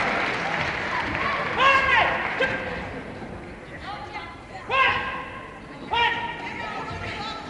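A wrestling crowd applauds and cheers at a bout, the clapping rising in a few bursts beneath a commentator talking throughout.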